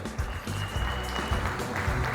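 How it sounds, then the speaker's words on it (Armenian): Guests at an engagement party applaud together, a dense, steady clapping that fills the room. "մենք եւս մեկ անգամ բուռն ծափերը նվիրում ենք Հովանեսյան ընտանիքի հայրիկին, ծափարությունները բարձր"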